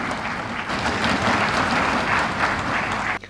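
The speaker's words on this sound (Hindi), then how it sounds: "भाषण गरिरहँदा सभासदहरू ताली बजाइरहेका थिए।" Members of parliament applaud during a prime minister's speech, a dense, sustained crowd of clapping that fills the hall loudly and then stops abruptly near the end.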